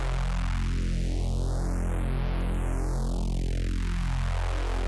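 Synthesized tearing Reese bass shaped with mid-side EQ, a dense, growling, continuous tone with a filter sweep rising and then falling across the clip, steady and moderately loud throughout.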